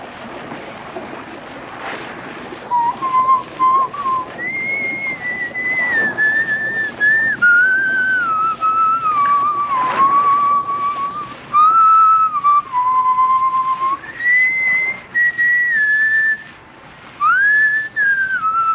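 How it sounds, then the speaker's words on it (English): Solo whistling of the Scottish tune Annie Laurie, a clear melody of sustained and gliding notes carried over a steady background hiss, with short breaths between the phrases. "whistle Annie Laurie"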